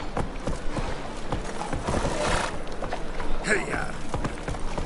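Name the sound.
horse Roach galloping in The Witcher 3 video game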